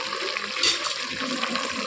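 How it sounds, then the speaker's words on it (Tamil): Water pours into a cooking pot while a Tamil vegetable kuzhambu is made, a continuous close gushing splash lasting about two seconds with no talking. "தண்ணி ஊற்றி கலக்கி இதை உள்ளே ஊற்றிடலாம்"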